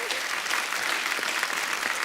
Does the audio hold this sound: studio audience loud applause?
yes